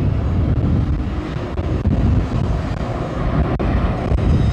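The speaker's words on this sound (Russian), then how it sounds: "возможность оценить уровень шума при взлете самолета" A Belavia airliner taking off, heard from inside an apartment in Batumi, Georgia: a loud, continuous broadband roar of jet engines and rushing air, steady throughout with no talk.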